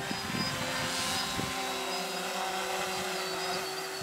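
A homemade multicopter drone descending to land on automatic land mode, its propellers giving a steady close buzzing whir with a high tonal hum, a small thump midway, then the rotor noise settling.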